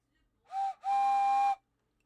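A human voice imitates a steam train whistle with two tonal hoots, a short one and then a longer sustained one, clear and close.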